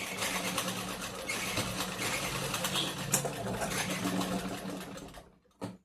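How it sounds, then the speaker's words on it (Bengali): A sewing machine running steadily while stitching blouse fabric, a continuous close mechanical whir that stops abruptly near the end, followed by a brief final burst. "কেটে বাদ দিয়ে একটা সেলাই নিয়ে নিতে হবে।"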